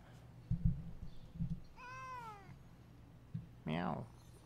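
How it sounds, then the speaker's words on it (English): A cat meows twice, a drawn-out, wavering call followed by a shorter, harsher one, heard close over faint background noise and a few soft low thumps. "Meow."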